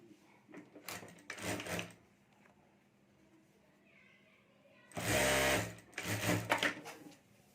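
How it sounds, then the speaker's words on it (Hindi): A sewing machine stitches a zipper and lining onto a homemade fabric mobile cover, running in short bursts of stitching. A longer, louder run comes near the end, with quiet pauses between. "यहाँ हमें सिलाई कर देनी है"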